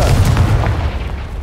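Deep, heavy explosive boom from the Confringo fire-blast spell in the Hogwarts Legacy video game, a loud rumbling burst with crackling debris that fills the short moment and slowly tails off.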